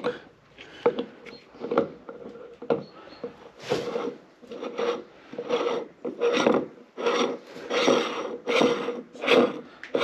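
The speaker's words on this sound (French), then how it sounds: "Ça a l'air de visser déjà, on entend." Rhythmic rasping and grinding as a stainless steel cone is screwed into place during a bathroom renovation, repeated turning strokes up close with a steady back-and-forth pattern.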